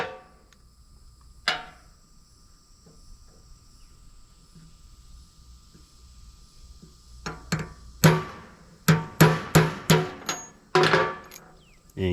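A hammer taps a socket to seat a Honda Accord valve cover seal: a single sharp strike early on, then a quick run of about eight loud metallic knocks near the end, close and unaccompanied by talk.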